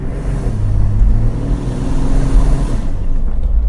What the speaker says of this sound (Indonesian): ini kita ngetes mobilnya Pak Andi Kamajaya setelah